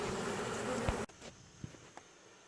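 Honeybees swarm and buzz around a hive box during a floor cut-out on a September evening in Virginia: a dense, close hum for about a second, then a sudden drop to a quiet background with a few faint scattered taps.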